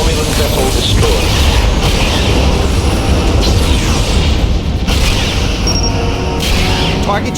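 Romulan starship blowing up in the space combat game Star Trek Legacy, a loud continuous roar of explosion and rumbling battle noise sustained throughout, with dense low booms and bursts layered over a steady wash of sound.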